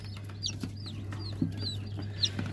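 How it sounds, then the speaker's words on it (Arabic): A newly hatched baladi naked-neck chick inside an incubator lets out several thin, shrill peeps over the incubator's steady low hum, close by and with no voices. "دي كتكوت برقبان بلدي اهو"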